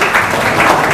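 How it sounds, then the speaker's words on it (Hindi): Students in a classroom clap together in a dense, continuous burst of applause, loud and close for a brief moment. "एक बार खुद के लिए जोरदार तालियां बजा दीजिए"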